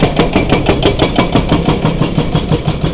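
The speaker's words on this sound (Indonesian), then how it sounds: "Ini mesin penghancur" The engine of a heavy demolition machine on a city street throbs in a fast, steady pulse of repeated thumps, loud and near, with no talking.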